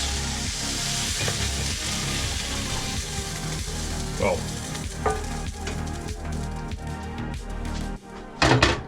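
Browned pork for a slow-cooked casserole sizzles and crackles steadily while pieces are stirred and moved into the pot, with scattered clacks and a louder clatter of pans near the end.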